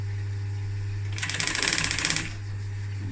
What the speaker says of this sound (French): Donc là on coud à 1 cm.